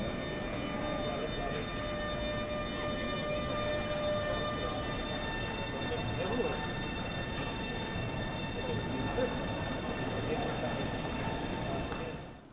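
An Italo high-speed EVO train stands on the opposite track at Bologna Centrale's underground platform, humming steadily with sustained whining tones and a broad rumble, fairly faint and constant for over twelve seconds.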